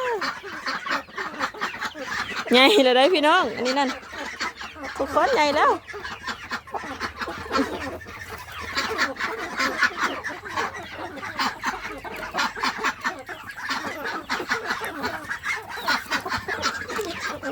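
Farm chickens cluck and call, with a few louder honking outbursts early on, while someone talks over them throughout.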